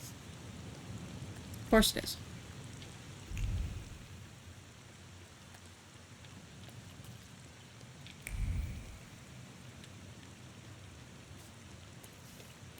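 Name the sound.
rain in the video game The Thaumaturge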